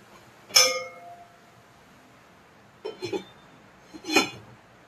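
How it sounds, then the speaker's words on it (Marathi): A lid is set on a cooking pot of moringa chicken: a bright metallic clink, then a couple of softer clattering knocks as it settles, in an otherwise quiet kitchen. "आता ह्याच्यावर आपण झाकण ठेवूया."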